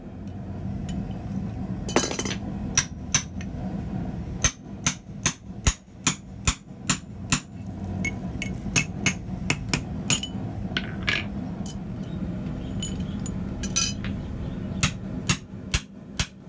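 Hand forging an eye on a steel grab hook with a handheld D2 steel drift: sharp, ringing hammer blows land one after another in an uneven rhythm, close and bright over a low background hum.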